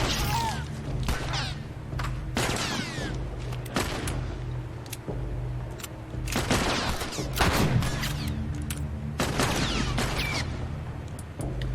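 Rapid bursts of gunfire in The Last of Us Remastered, loud and close, with repeated volleys and sharp impacts spread across the stretch and no voices over them.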